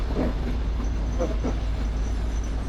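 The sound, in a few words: Kolomyia–Dilove city train arriving on first track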